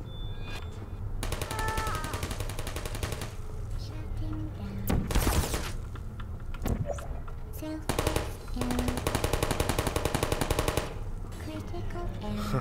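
Automatic turret gunfire from the video game Portal, rapid machine-gun bursts rattling in a few loud stretches over a busy game soundscape with music-like tones.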